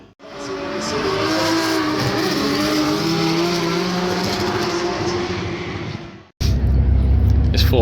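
Drifting cars at a Japfest track session make a loud, sustained roar of engines with screeching tyres that holds for about six seconds. A sudden cut follows, and a deeper, rumbling engine noise takes over.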